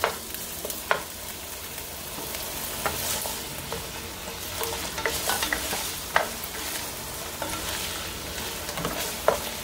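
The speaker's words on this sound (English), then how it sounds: "i-fry muna natin yung patatas." Potatoes frying in a pan for chicken asado, a constant bright sizzle with intermittent sharp scrapes and taps of a spatula, close and alone without talk.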